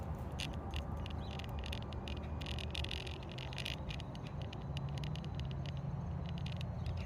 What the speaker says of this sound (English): This little motor, let me tell you guys, this is phenomenal. It is so quiet.